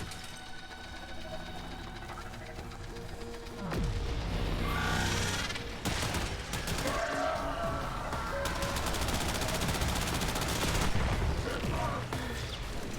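Rapid gunfire from the video game Warframe: sustained bursts and volleys of automatic shots with heavier blasts, dense and loud throughout, mixed with game effects.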